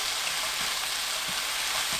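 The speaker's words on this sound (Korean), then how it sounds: "다진 마늘 한 스푼, 진간장 6스푼, 올리고당 한 스푼 넣고 섞어주세요." Garlic, soy sauce and syrup being stirred into onions frying in a pan: a steady, fairly quiet sizzle with faint stirring scrapes and no talk.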